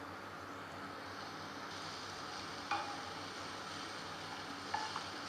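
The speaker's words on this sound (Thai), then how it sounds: "ทีนี้เราจะทอดกุ้งต่อค่ะ ใส่กุ้งที่เราเตรียมไว้ลงไปเลยค่ะ จีกุ้งให้สุกดีเลยค่ะ" Shrimp fry in oil in a pan, giving a steady soft sizzle that stays level throughout, with a couple of faint clinks from stirring and no talking.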